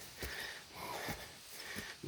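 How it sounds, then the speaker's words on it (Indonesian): Heavy, rhythmic panting breaths close to the microphone, several quick wheezy inhales and exhales in a row. "napasnya ngos-ngosan"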